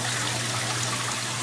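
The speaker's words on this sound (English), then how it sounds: "the water in motion in front of our filter mat coming into our pump chamber" Pond water flows through a filter mat into a pump chamber, making a constant close trickling rush with a steady low hum beneath it.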